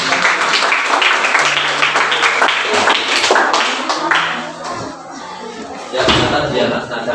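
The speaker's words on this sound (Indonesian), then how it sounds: "Tepuk tangan dulu buat teman." Fifth-grade pupils in an elementary school classroom clap for classmates about to present, loose uneven clapping with taps and knocks, broken up by voices and chatter, fading midway and then rising again near the end.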